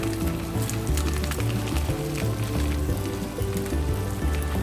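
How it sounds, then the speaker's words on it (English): Rice stirred into hot oil in a pan for Mexican rice, giving a steady sizzle and crackle with low clattering of stirring through the whole stretch, fairly close and continuous. "I'm going to pour in my rice, and I'm going to mix my rice in with that oil and coat it."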